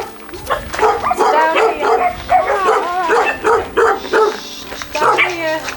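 Several dogs bark, yip and whine at once in the echoing main pen area of a dog shelter, busy and close, with a few louder barks breaking through the chorus.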